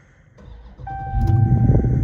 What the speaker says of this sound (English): so I'll start up the car from the inside and show y'all.